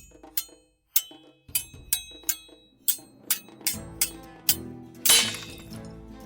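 Metal blades clash in a staged sword fight, a dozen sharp ringing clanks spaced about half a second apart, loud and close, ending in a heavier crashing hit.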